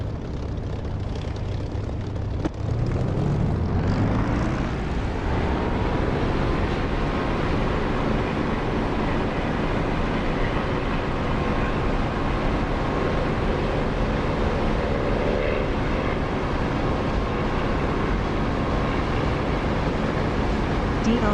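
A Spitfire's piston engine in the DCS flight simulator revs up and roars into takeoff, a loud sustained drone rising in pitch and holding steady.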